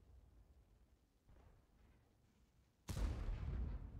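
A tank gun fires in World of Tanks on the Prokhorovka map, one loud, heavy boom that bursts out of a quiet low rumble and rolls on with a sustained blast tail.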